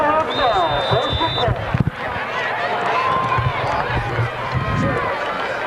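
A high school football crowd at a Mason vs. Winton Woods game boos a clipping call, producing a steady, broad roar of massed voices with a few sharp thuds partway through.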